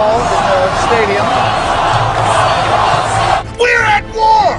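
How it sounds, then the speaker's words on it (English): A stadium crowd cheers and yells for Ron Paul, a dense roar of many voices with shouts rising above it, loud and continuous, with a few louder whoops near the end. "the cheering is happening here for Ron Paul in the stadium"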